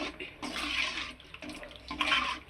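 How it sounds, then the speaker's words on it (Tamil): Water is poured into a pan of lentil-ball curry in a few splashing, rushing bursts, close and moderately loud, separated by short pauses. "இன்னும் கொஞ்சம் தண்ணி ஊற்றணும்"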